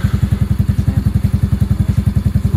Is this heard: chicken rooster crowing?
no